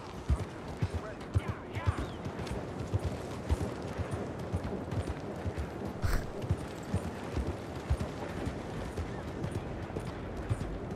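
Horse hooves clip-clop in Red Dead Redemption 2 as a drunk rider moves along, a steady rhythmic trot of hoofbeats at close range with faint voices and ambient noise underneath.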